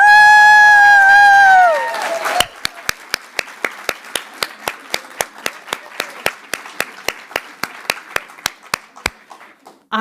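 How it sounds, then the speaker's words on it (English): Audience applause for university chapter leaders at a Sigma Theta Tau International nursing honor society induction, coming after a fading tone, with sparse, evenly spaced claps standing out over a soft crowd clatter. "Let's give USC a huge round of applause."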